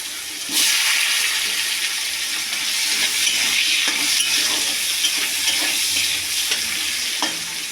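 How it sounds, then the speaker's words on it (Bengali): Potatoes sizzling in hot mustard-style fish-frying oil with black cumin seeds in a pan, a steady loud crackling hiss with occasional stirring scrapes, heard alone without talk. "আলুটা আমার লাল লাল করে ভাজা হয়ে গেছে।"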